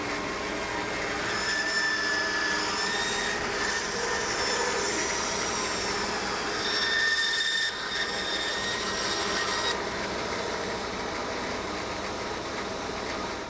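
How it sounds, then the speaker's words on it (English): A bandsaw cuts out a form in a workshop, giving a continuous loud whirring whine that shifts slightly in pitch as the blade works through the material, with no talking. "We'll just go cut this out on the bandsaw."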